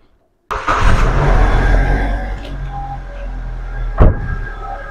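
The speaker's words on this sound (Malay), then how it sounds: "So kita start engine dulu." A Proton X70 car engine starts after near silence, with an abrupt crank catching into a loud idle that settles to a steady hum, then a brief louder blip near the end.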